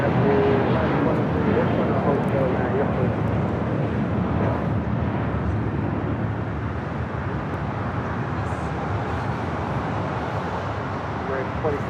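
A passenger jet taking off at LAX, a broad steady roar of engines that starts loudest and slowly eases over about twelve seconds, with no voices over it.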